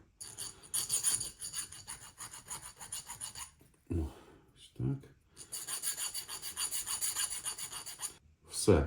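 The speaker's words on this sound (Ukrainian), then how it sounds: "зараз ще ось так підправимо, тому що я тут ще маленьким надфільчиком проходив" A small needle file rasps against the metal of a soldered winter ice-fishing lure in several long runs of quick back-and-forth strokes, close up, with a couple of brief knocks and pauses between passes.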